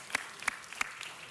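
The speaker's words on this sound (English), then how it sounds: "I'd like to give all of them a huge round of applause from all of us." Scattered hand claps at a city council meeting, a few distinct claps spaced evenly and heard faintly at a distance in a quiet room.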